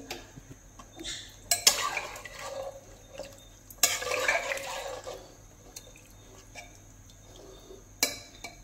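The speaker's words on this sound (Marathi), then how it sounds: "पुन्हा एकदा छान असं मिक्स करून घेऊ" A spoon scrapes and clinks against a pot while garam masala is stirred into chicken curry, quiet and intermittent with a few louder bursts of scraping.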